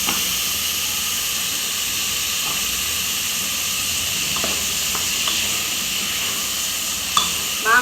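Potato, raw mango and carrot sautéing in a pan for sambar rice, giving a steady hissing sizzle throughout with occasional soft clicks of a spoon and a brief clatter near the end.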